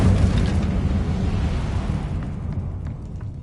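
Incendio fire spell cast in Hogwarts Legacy, a loud whooshing, roaring burst of flame that rumbles heavily at first and then slowly fades over a few seconds.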